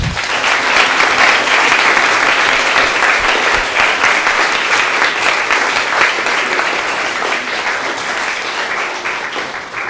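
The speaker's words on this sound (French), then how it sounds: "Je crois qu'on peut l'applaudir encore." A lecture audience at a mathematics talk applauds the speaker with dense, steady clapping that stays loud and even for the full stretch, tapering only slightly toward the end.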